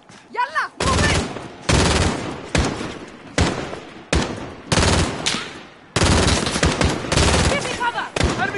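Gunfire in the Call of Duty Modern Warfare video game: loud bursts of rapid automatic fire in several sustained volleys separated by brief gaps, close and dominant, with some shouted voices between.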